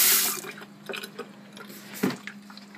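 Tap water runs and splashes into a sink for cleaning a fursuit head, starting with a bright gush, then settling into intermittent drips and splashes over a low hum.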